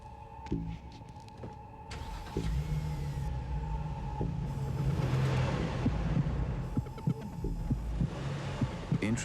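The engine of an Infiniti G35 with 260 horsepower, heard in a television commercial, gives a steady throbbing, heartbeat-like rumble with a low hum and sharp accents throughout.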